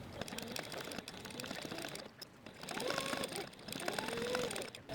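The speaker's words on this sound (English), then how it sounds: "make sure that the Durawax was pressed snugly against the fence so that it fed properly, making sure the binding and the fabric got sewn together" A sewing machine stitches binding onto waxed canvas for a log carrier, running in a steady mechanical whir with a short pause midway, while a voice speaks over it.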